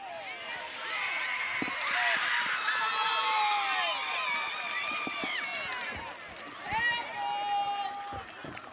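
Spectators at a West Virginia middle school soccer game between Fayetteville PK8 and Oak Hill shout and yell together in a sustained, loud crowd roar appealing for a handball, with rising whoops near the end.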